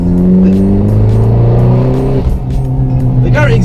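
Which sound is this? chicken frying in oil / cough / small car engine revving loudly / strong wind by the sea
small car engine revving loudly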